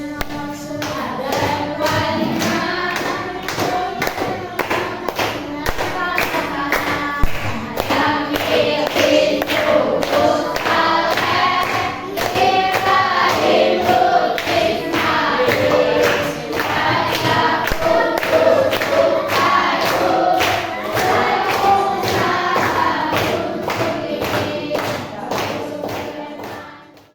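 Children clapping their hands in a classroom, a steady run of rhythmic claps that carries on for a long stretch, close and fairly loud under voices that sing or chant along.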